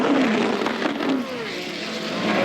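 A March racing car engine screams loud and close during a race, its high-revving whine rising and falling as it shifts and passes, with no talk.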